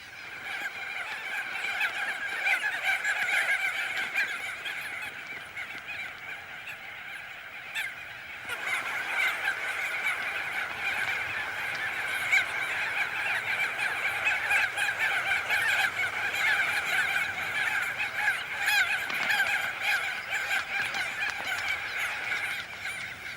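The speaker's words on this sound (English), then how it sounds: "a million crested auklets arrive at their nest sites" A huge colony of crested auklets arriving at nest sites at sunset gives a dense, continuous chorus of honking, trumpeting calls, steady and moderately distant, with no voices.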